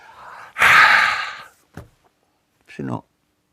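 A person performs a demonstration yawn: a long, loud open-mouthed breath that tails off, then two short breathy sounds, close up with no other voices.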